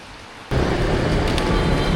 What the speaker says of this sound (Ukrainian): знову пішов дощ